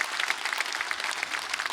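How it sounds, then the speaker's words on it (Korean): Audience applause at a church worship service, a steady dense clatter of many hands clapping together throughout, fairly even in loudness with no speech over it. "먼저 이분들 위해서 우리 감사의 박수 한번 하겠습니다"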